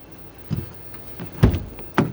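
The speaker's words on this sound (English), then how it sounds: "I'll open the rear door carefully because the" Rear door of a campervan with a rear lounge being opened, giving a few separate knocks and clunks spread over about two seconds, close by with no talking.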